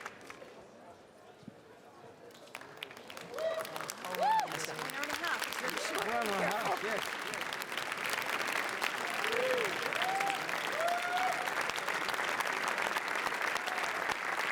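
Applause from the crowd at a Cannes red carpet arrival swells from quiet murmur into sustained dense clapping and cheering, broad and continuous, with voices talking over it throughout.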